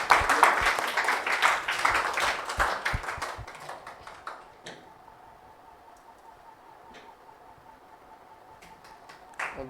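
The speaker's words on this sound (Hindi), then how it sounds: "एक बार इस बच्चे के लिए जोरदार तालियां दें।" Audience applause for a student at a 12th-class result celebration: dense, loud clapping for about four seconds, then fading to a low murmur with a few scattered taps.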